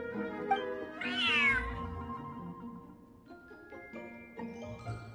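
A large cat in the video game Genshin Impact lets out one drawn-out, rising and falling meow, followed by softer, quieter mews and faint ambient game sounds.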